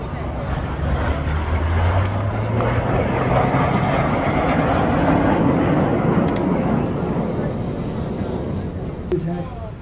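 Aircraft from an aerobatic display team fly past in formation with a loud, continuous engine roar that slowly rises in pitch, and a voice sits faintly beneath the noise.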